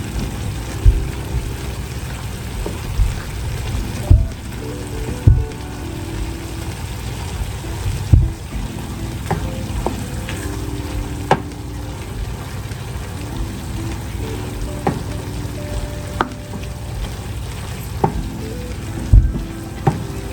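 Jamaican beef patty filling stirred in a hot pan, a steady crackling sizzle with scattered scrapes and taps of the utensil throughout, loud and close, with no talk.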